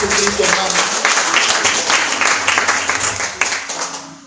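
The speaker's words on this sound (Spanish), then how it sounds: "Den un aplauso a Jesucristo," Church congregation applauding together, a dense, sustained burst of clapping from a crowd that carries on steadily before thinning out, with a voice speaking over it.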